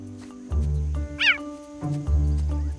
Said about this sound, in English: Chirping is a distinct cheetah vocalization.